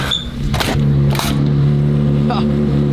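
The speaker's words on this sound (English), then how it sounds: "I hear what sounds like a Ferrari." Ferrari 360 V8 engine humming steadily with a low sustained drone and a brief rise in revs, heard up close with speech-like bursts of voices over it.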